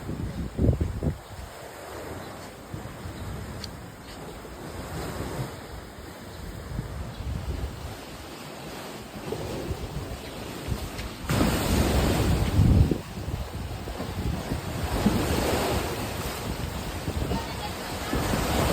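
Sea waves wash in at a beach resort in Aloran, Misamis Occidental, with steady surf and gusting wind buffeting the microphone, and a louder wave surge past the midpoint while a person talks briefly.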